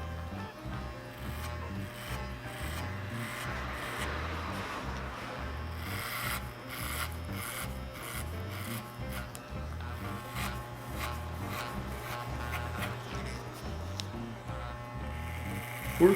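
Hair clipper fitted with a number 1 guard trims the sides of a psychobilly quiff haircut, giving a steady close-up buzz and rasp throughout with rhythmic low pulses underneath.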